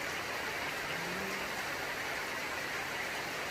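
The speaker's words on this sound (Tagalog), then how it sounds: "Ang lakas ng ulan." Heavy rain pours steadily as a dense, even hiss with no break, fairly loud throughout and with no talking over it.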